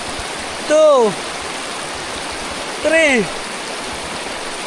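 A river rushes steadily close by as a continuous broadband wash, with two brief spoken words cutting over it.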